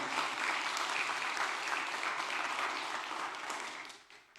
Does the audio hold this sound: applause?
yes